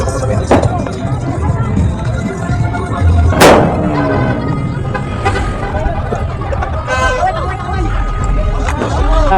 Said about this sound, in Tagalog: Wala pa paputok sa taas guys. Lahat firecrackers.